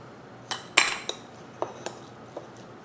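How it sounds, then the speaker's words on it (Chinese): Close, bright clinks of a utensil against a bowl as chopped ingredients with garlic, pepper and salt are stirred together, a handful of irregular taps and scrapes in quick succession. "先把它搅拌一下。"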